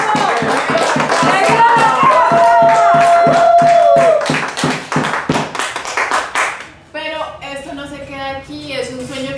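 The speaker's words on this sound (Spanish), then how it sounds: "¡Aplausos!" An audience at a storytelling event bursts into dense, rapid applause that fills the first several seconds, then thins and fades as a voice speaks.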